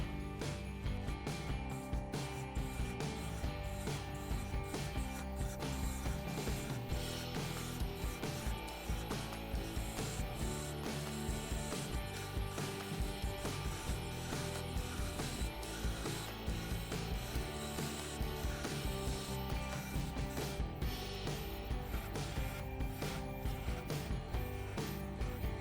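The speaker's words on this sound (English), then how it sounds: "I'm going to start turning away some of the bulk with my spindle roughing gouge" Dense, continuous scraping and rumbling comes from a spindle roughing gouge cutting the bulk off a wooden goblet blank spinning on a wood lathe, loud and close, with a constant rapid chatter throughout.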